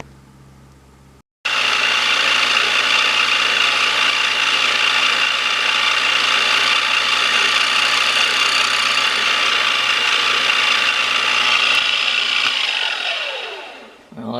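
A driver bit is ground on a diamond impregnated wheel, giving a loud, steady high-pitched grinding whine that holds unbroken for about eleven seconds, then winds down as the wheel spins to a stop.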